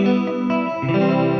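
Electric guitar run through a Neunaber Immerse reverb pedal with chorus, sustained thick chords with a shimmering wash of space behind them, loud and alone without any talking.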